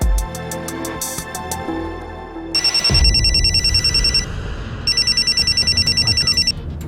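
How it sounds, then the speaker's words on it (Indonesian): A mobile phone rings with an incoming call, first with a brief electronic tone pattern, then loud repeated trilling bell bursts in two rings separated by a short pause, with no talking. "Waduh, Om Alex. Papanya Pangeran. Ayo angkat."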